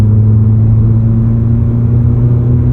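A 2009 Mazda RX-8 rotary engine pulling steadily at 3,500 RPM around 50 mph, a constant loud mid-pitched drone with firm low rumble heard from inside the cabin, no voices.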